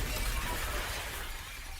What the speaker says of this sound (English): why did the glass pick now to crack?